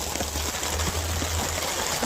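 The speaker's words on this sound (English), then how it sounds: "I got water coming down right there." Rainwater trickling down inside a garage, a steady close hiss of running water with faint irregular dripping and no talk.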